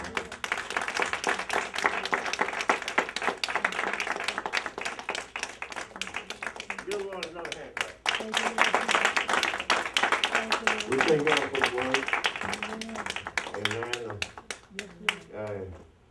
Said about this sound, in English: Let's give the Lord a hand clap of praise.